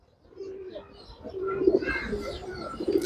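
Racing pigeons coo inside a loft with soft, throaty, repeated calls close by. The cooing swells a little over a few seconds and has light chirps and faint background noise around it.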